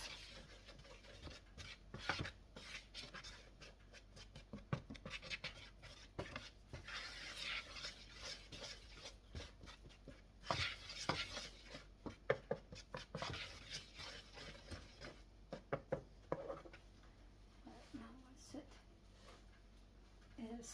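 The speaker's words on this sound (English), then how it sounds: "And then we're going to use a whisk. Stir this up." A whisk stirs cake batter for a banana upside-down cake in a bowl, making a continuous scraping, sloshing rhythm of quick strokes with occasional clinks against the bowl. It is heard up close.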